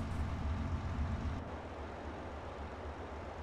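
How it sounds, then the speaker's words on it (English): A mower engine runs in Farming Simulator 22 with a constant, close, droning motor rumble and no variation in pace. No one speaks. "let's jump in a mower"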